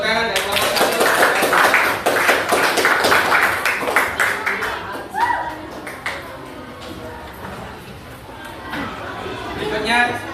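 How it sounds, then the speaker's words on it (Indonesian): Applause for the first group of students in a classroom, a burst of many hands clapping for several seconds that thins out amid murmuring voices, with a brief spoken remark partway through. "Tepuk tangan dari kelompok 1."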